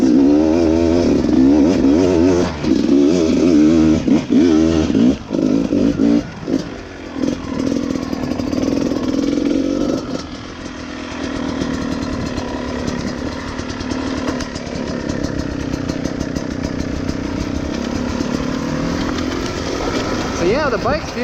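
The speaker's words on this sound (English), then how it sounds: "So I'm gonna try this little hill here in my sun mode, and just sort of feel the difference." A 2018 Beta 300 RR two-stroke dirt bike revs and pulls up a small hill in its softer map, the engine loud and close throughout with a rider's voice over it.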